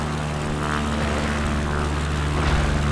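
A propeller-driven airplane lowering its gear for a runway landing gives off a loud, continuous engine hum with faint swells of airy rushing, close and unbroken, with no talking.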